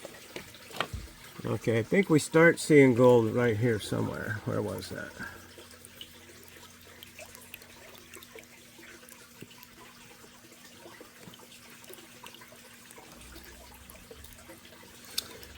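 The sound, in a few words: water running while gold mining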